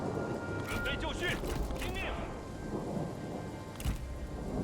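Rain and rolling thunder in the Total War: Three Kingdoms strategy game, a steady downpour hiss with a deep rumble swelling early and a sharper crack near the end, under a faint voice.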